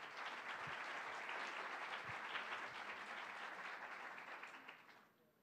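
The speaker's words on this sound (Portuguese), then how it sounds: "Uma salva de palmas" An audience at a lecture bursts into steady applause that holds for several seconds before fading out, fairly quiet and without talk over it.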